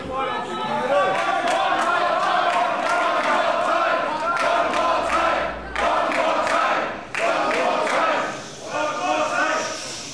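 A crowd cheers and chants at an independent wrestling show in a fairly loud, continuous roar, with rhythmic shouted chants, brief dips and sharp impacts, while a commentator talks over it.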